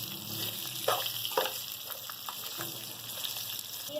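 Sesame seeds and melon seeds are stirred together in a pan with a soft continuous frying hiss, broken by several clear scraping strokes of a spoon against the metal, close up with no talking.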